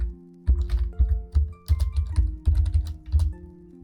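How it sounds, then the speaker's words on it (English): Keys clatter on a computer keyboard in quick, irregular bursts of close taps, ending in a firmer keystroke like the enter key, with no talking. "No different than hitting enter on your keyboard."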